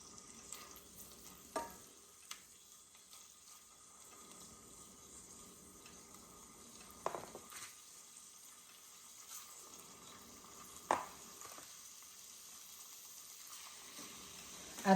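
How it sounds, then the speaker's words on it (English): Faint, quiet sizzle of steak for a Philly cheesesteak starting to fry in a heating pan, with a few soft clinks and no voices. "Y'all hear it starting to sizzle"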